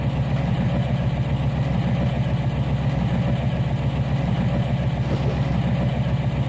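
Locomotive engine in the Trainz 2019 train simulator game, a steady rumbling diesel idle with a pulsing low throb, continuous and even in level.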